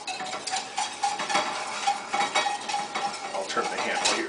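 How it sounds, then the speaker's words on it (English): A whisk clinks rhythmically against a bowl while mixing dry seasoning ingredients for cheese, a close, fairly quiet run of quick metallic taps and scrapes with no voices. "So you want to mix the seasoning ingredients and the other dry ingredients together first. And just whisk it together."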